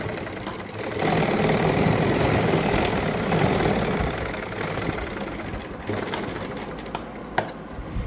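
A sewing machine runs steadily, stitching straight seams through lined suit fabric with a dense, rapid mechanical whir that eases slightly toward the end.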